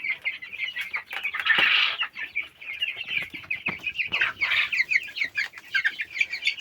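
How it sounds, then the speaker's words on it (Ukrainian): A cluster of three-week-old chicks chirps and clucks continuously in high, rapid peeps, close by, with a brief flutter of wings. "Курчатка трьохтижневі"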